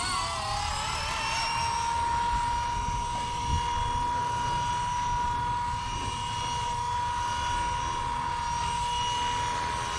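A Blade 230s RC helicopter flies at full throttle, its steady high-pitched rotor and motor whine close and continuous throughout, with a rising pitch at the start.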